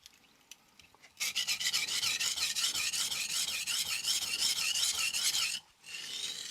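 A Funayuki kitchen knife is sharpened handheld on a King Hyper 1000-grit whetstone: rapid, rhythmic rasping strokes of steel on wet stone, close and continuous for several seconds, with a brief pause before resuming.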